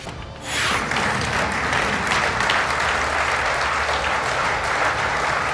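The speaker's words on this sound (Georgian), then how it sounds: "აპლოდისმენტები და ოვაციები მოჰყვა მის მიერ ვენესუელაში მიღწეული სამხედრო წარმატების ხსენებას" Loud, sustained applause and ovation from a large crowd at a Donald Trump speech, rising sharply after a brief quieter moment and holding steady throughout.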